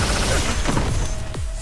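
A loud sci-fi proton cannon blast in the video game Marvel vs. Capcom Infinite, with booming, sweeping tones and a rumbling tail, fired twice in quick succession over constant background noise.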